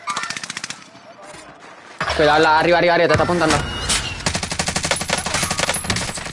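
Bursts of rapid automatic gunfire from a Call of Duty Warzone match, loud and repeated, with excited shouting from players over the shots.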